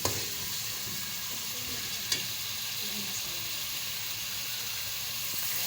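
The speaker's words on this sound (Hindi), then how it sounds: "प्याज डालने के बाद इसको अच्छे से गोल्डन ब्राउन कर लीजिए आप लोग।" Onions frying in a pan for aloo keema give a steady broadband sizzle for several seconds, with a faint scrape of stirring and a small clink near the middle, no voices.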